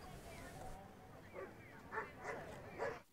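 Dogs at an outdoor gathering of about 150 dogs in Maebashi, Gunma, giving several short yips and whimpering calls at a moderate distance over a crowd murmur.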